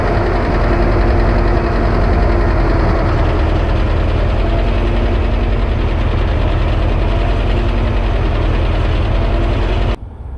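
A Willys CJ-2A jeep engine with a snowplow hydraulic pump runs steadily, a loud, close, low rumbling idle with a knocking pulse that continues throughout, cutting off abruptly near the end.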